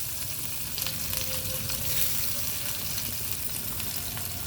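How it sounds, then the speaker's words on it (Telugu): Garlic frying in hot oil for a sambar tempering gives a close, steady crackling sizzle throughout, with no talking. "ఆయిల్ హీట్ ఎక్కిపోయిన తర్వాత ఎల్లుల్లిపాయలు వేసుకోవాలండి"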